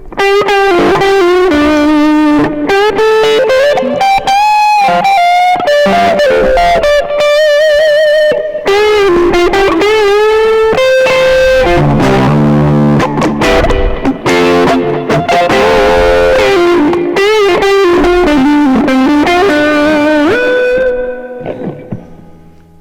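Distorted electric guitar on the bridge humbucker pickup alone, playing a fast lead line with bends and sustained notes, bright and aggressive, ending in a fading ring.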